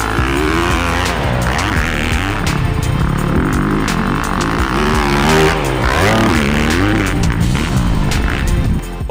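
A 2024 Yamaha YZ250F dirt bike engine revs loudly and continuously, its pitch climbing and falling in repeated throttle blips, close by.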